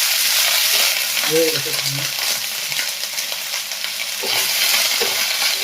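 Loud, steady sizzling of chopped brinjal frying in hot oil, with occasional soft scraping from stirring.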